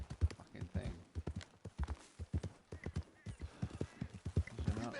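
Horse hooves clip-clopping in Red Dead Online, a repeated irregular trot of sharp hoof strikes, fairly close, with someone talking over them throughout.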